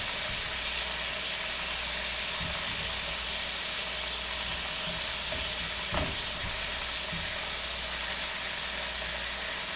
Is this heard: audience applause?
no